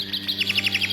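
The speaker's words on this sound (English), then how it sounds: "Listen to these loud-ass birds." Loud birds chirp close by in the Alone in the Dark video game, a quick run of about ten bright, evenly spaced tweets over a steady low background hum, with no talking.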